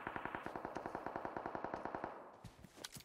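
Automatic gunfire in PUBG Mobile rattles out in a fast, even burst of about twenty shots over two seconds, then a few scattered, fainter shots follow.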